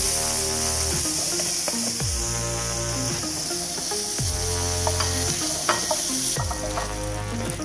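Chicken pieces sizzle steadily in a frying pan. A loud, continuous crackle runs throughout, with occasional scraping and stirring clatter and no voices.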